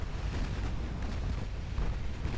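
Secondary battery guns firing in the naval game Ultimate Admiral: Dreadnoughts, a steady, dense rumble of heavy booming shots running together, with deep low-end thuds throughout and no speech.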